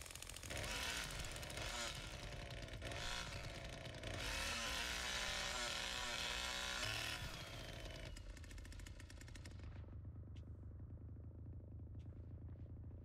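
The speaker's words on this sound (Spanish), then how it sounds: "voy a parar la motosierra para que no me escuchen" A chainsaw in The Texas Chain Saw Massacre video game roars loud and rough, revving and sputtering, then cuts off to a quieter low rumble near the end.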